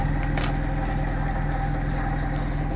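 A magnetic switching motor driven by an SSR module runs steadily at about 1248 RPM, giving a loud, even hum with a fast rhythmic pulse and a faint whine, with no talk.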